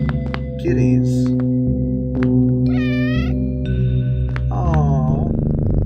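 Cats meow repeatedly in the OneShot video game, with several bright, rising and falling mews standing out over sustained tonal game music.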